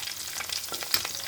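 Green chilies and onion fry in hot oil, crackling and sizzling steadily at close range, with a few sharp pops and soft stirring scrapes.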